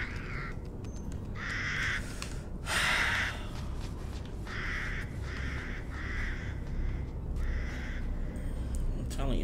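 Crows cawing in the video game Resident Evil Village, a string of harsh caws in separate bursts over a low ambient bed, moderately close, with a brief breathy sound among them.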